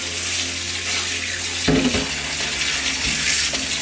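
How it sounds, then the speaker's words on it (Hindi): Cold tap water pours steadily over cooked noodles in a kitchen, a continuous close rushing splash that shifts abruptly midway as the stream hits the noodles, with no voices. "ठंडा पानी चला देंगे ताकि ओवर कुक ना हो"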